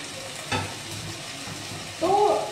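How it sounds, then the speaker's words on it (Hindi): Corn kebabs roast on a hot tawa and are turned gently. A quiet, steady sizzle runs throughout, broken by a brief scrape of turning and a louder burst of frying near the end. "तो हम दोनों को रोज हल्का हल्का सा घुमाते हुए सेक लेंगे।"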